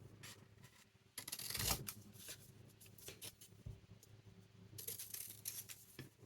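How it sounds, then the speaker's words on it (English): Scissors snipping around a paper scrap for a winter-themed junk journal, a series of soft, close crisp cuts and paper rustles at low level, with no talking. "it's only a scrap, so I'm going to cut around it anyway"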